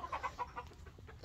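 Several chickens cluck in short, repeated bursts through a coop where the flock is feeding, the clucks close and fairly clear over soft background noise.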